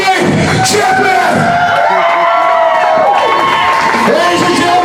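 A wrestling crowd roars and cheers loudly and steadily for a newly crowned RSW Heavyweight Champion, with shouts, whoops and applause filling the arena throughout and a voice calling over the din.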